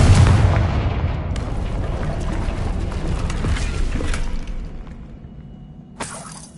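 A Confringo explosive spell blast in Hogwarts Legacy, a loud booming burst with shattering debris that rumbles and fades over several seconds, followed by a brief sharp crack near the end.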